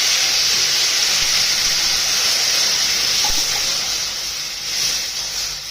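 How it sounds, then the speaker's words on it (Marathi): A glass of water hits hot frying green brinjal masala in a pan, setting off a loud continuous hissing sizzle of steam that stays strong and then slowly fades a little, close by and without talking. "एक ग्लास पाणी टाकायचं."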